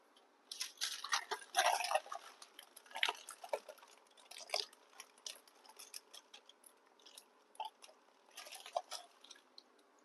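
Ragi thattai, village-style millet crackers, fry in hot oil with faint, irregular crackling and sizzling pops, quiet and continuous.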